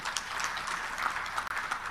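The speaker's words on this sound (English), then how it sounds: "Let us give a big round of applause for the excellent organization" Steady applause from a conference audience at a democracy stakeholders' meeting in Arusha fills the hall in a dense, even wash of claps, with one abrupt drop near the end.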